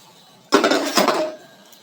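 Dishes, pots and pans clatter and clink together during washing up in a home kitchen, a single loud burst of about a second that fades out quickly.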